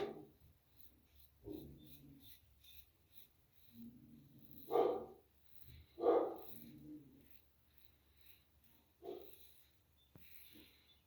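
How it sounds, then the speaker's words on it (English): Dogs bark sharply at a trash collector arriving for pickup, several barks ringing out at irregular intervals from a short distance, separated by quiet stretches. "You hear the dogs yelling at the trash man coming to pick up our trash."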